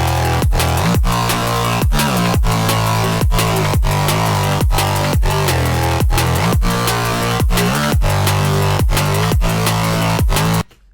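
Layered drum and bass synth bass built in the Vital synthesizer with convolution reverb, a loud, steady bass bed punctuated by a regular, driving drum pattern of sharp hits for about ten seconds before cutting off abruptly.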